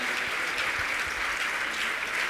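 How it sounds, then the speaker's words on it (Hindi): Applause from an audience gathered at a Jain religious assembly at Gunayatan, Shikharji, a steady, dense wash of clapping that holds evenly for a couple of seconds with no voices over it. "जोरदार तालियां बजनी चाहिए आपकी, तालियां तालियां तालियां"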